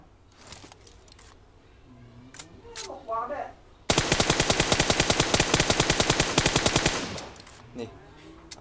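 A gun is test-fired in one rapid automatic burst lasting about three seconds, loud and close. Quieter handling sounds and a brief voice come before it.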